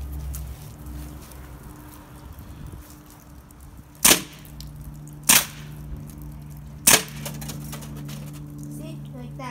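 A BB gun fires three sharp, separate shots into the ground, spaced about a second or so apart over a quiet outdoor background with a low hum.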